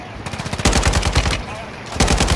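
Close, loud bursts of automatic gunfire in the shooter DMZ, rapid rattling shots in two or three volleys separated by short pauses, with a player's voice faintly mixed in.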